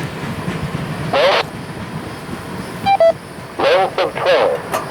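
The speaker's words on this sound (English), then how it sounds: "This one is K877, an empty molten sulfur train from Mulberry, Florida to New Orleans, Louisiana." Empty K877 molten sulfur freight train passing on the Florida line, a steady rolling rumble of railcars with faint clicking, broken by several short bursts of radio chatter and a brief tone.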